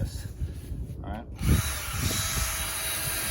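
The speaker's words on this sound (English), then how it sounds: "Now I use a drill brush" A drill-mounted scrub brush whirring against an oil-stained concrete driveway, a quiet motor buzz with a brief pause and restart, accompanied by scrubbing rumble and a low voice talking.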